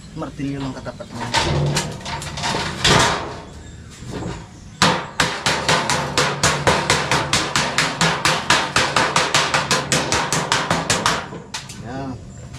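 Hammer blows on a corrugated iron roofing sheet, struck in a steady rapid series of sharp metallic hits after a few scattered earlier strikes. Pigeons coo in the background.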